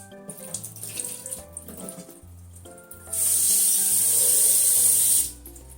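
Vegetables for shibazuke pickles are washed at a sink, first with soft splashing and rubbing, then a loud, steady gush of running tap water for about two seconds before it stops.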